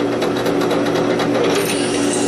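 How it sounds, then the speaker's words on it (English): A drill bores pin holes in a knife blank, a steady close-up whirring grind with a faint pulsing texture, continuous for a couple of seconds with no talking. "I pull the drill up to let the chips clear and let it give it a second to cool down"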